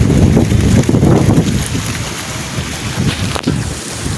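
Loud, gusty wind roars against the microphone, surging and easing in waves across the whole stretch with no talking.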